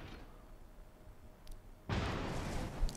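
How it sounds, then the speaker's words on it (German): Shells from incoming fire slam into a battleship in World of Warships, a faint distant pop first and then a heavy, rumbling impact that swells and lingers, no voices. "die ersten Granaten, die eintreffen, bringen ihn direkt wieder zum Brennen"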